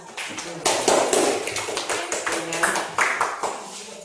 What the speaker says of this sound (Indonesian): kita kasih tepuk tangan kepada kelompok 1